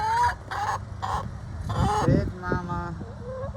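Backyard hens, including a black Marans, cluck and call close by in short bursts, with someone talking to them between the sounds.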